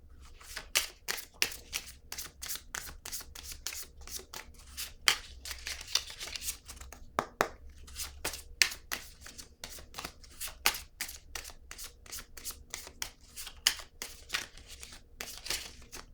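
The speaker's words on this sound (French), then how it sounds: "Je vais piger une carte" Cards being handled from a deck, a long run of sharp, crisp flicks and snaps in quick irregular succession against a low steady hum, moderately close with no talk.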